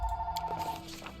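Landline telephone ringing in the video game Kingmaker, a short electronic trill heard once at moderate volume with a faint tonal hum beneath and no talking.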